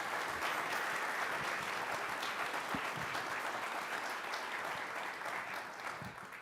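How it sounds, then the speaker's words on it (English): A high school concert audience applauds after a band piece, sustained, full clapping across the hall that stays steady for several seconds before slowly tapering. "Let's hear one more round of applause for those two for sure."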